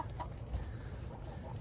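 Two Polish hens cluck softly and steadily on a snowy homestead, low and close, with no talk over them.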